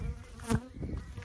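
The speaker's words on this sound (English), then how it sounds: "we're seeing much, much more bees coming in without anything apparently on them" Honey bees buzz close around their hive entrance, a dense droning hum with one bee zipping loudly past, brief and alone without talk.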